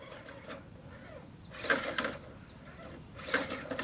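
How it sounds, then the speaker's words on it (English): RC rock crawler on 1.9-inch Chanmoo Rock Terrain tires climbing a ledge on a rocky canyon course, with whirring gear and motor bursts rising twice under throttle, close and fairly quiet, no talk. "if we can't pull up over this ledge without use of a fair decent amount of throttle"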